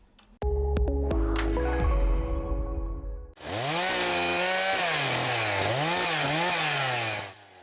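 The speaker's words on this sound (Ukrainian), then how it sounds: "Повалені сухі та хворі дерева лісівники ріжуть бензопилами." Petrol chainsaws cut fallen dry and diseased trees in a forest, first one saw revving in loud bursts that stop and restart, then a steady high engine whine that rises and falls as the chain bites into the wood.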